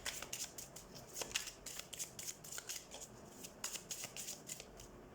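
A tarot deck shuffled before more cards are drawn: rapid, crisp card riffles repeating in bursts, close and clear, with no voice over them.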